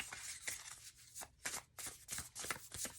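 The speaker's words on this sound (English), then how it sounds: "I do love this deck, shuffling with it." A deck of oracle cards being shuffled up close, giving soft, repeated riffling bursts in a steady rhythm, quiet and alone.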